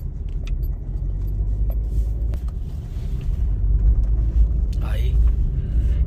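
A new Maruti Suzuki Swift being driven, its engine and road noise forming a steady low rumble that grows slightly louder, with faint rattles and a voice talking over it.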